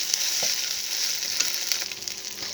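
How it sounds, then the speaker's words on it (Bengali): Ginger and garlic paste frying with spices for chicken roast, giving a steady close sizzle with a few soft stirring taps and no voices. "এটা আদা রসুনটা একটু ভাজা ভাজা হয়ে আসছে"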